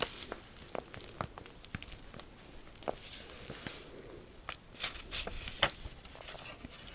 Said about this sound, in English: I love the sound, the crinkly sound of paper that's been painted on.